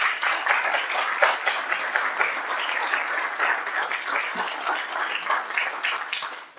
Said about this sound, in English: And you can give him a round of applause